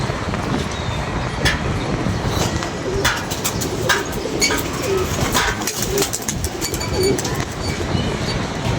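Several pigeons coo in a loose, repeating pattern close by in a flock of about thirty-three birds, over a steady bed of outdoor noise with no talking.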